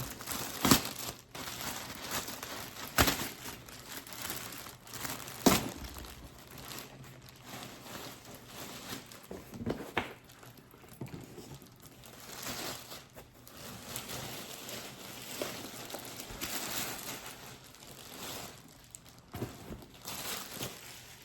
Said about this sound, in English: I'm gonna unwrap the other as well